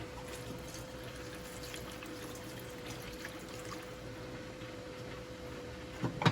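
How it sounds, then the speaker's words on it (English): Vegan broth is poured into a stew pot with a soft continuous trickle of liquid, faint and steady over a low background hum, ending with a small clunk. "So get a little bit more of the vegan broth."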